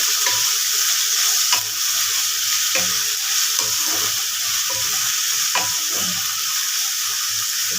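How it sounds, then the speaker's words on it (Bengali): A steady sizzle of onions frying in a pan, with occasional scrapes and stirring knocks, no talking. "পেঁয়াজটাকে একটু এখন ভাজা ভাজা করতে দেবো"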